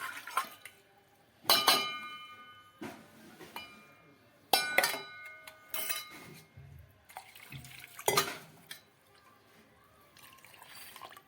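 Soaked fenugreek seeds, rice, flaxseed and a hibiscus flower tipped into a pot, giving several separate wet clinks and splashy bursts with quiet gaps between them, close by.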